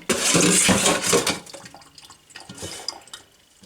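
Water pours and splashes over homemade cottage cheese during a rinse, a close, bright burst of running liquid that eases into scattered drips and small splashes.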